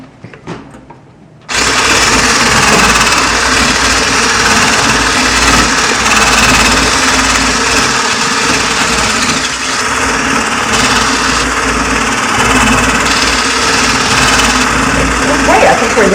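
An electric mixer whisks egg whites for Danish ebelskiver pancakes, a loud, steady high-pitched motor whir that kicks in after a short pause and runs continuously for about fourteen seconds.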